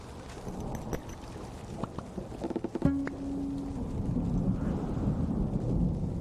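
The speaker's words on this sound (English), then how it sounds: "Oh, rain, nice." Rain and rolling thunder in the video game Spring Falls, a low rumbling storm bed with scattered sharp clicks and a brief tonal chime partway through, steady and moderately loud.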